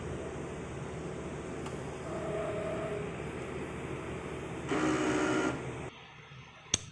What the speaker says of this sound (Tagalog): So, after natin makon yung printer, so magki-cleaning po tayo